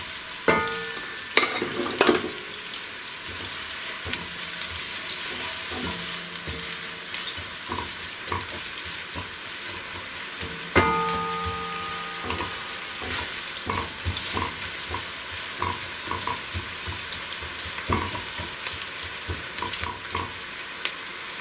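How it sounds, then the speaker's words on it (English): Onions sautéing in a pan for cabbage soup, a continuous close sizzle with repeated spatula scrapes and clinks against the pan, loudest early on and near 11 seconds, with no speech. "Just saute the onion for a little while."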